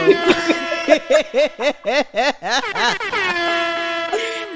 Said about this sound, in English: Oh, Kalanda said, give me some air horns,